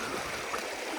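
A mountain river rushes over rocks along a valley trail, a steady close wash of flowing water with no voices.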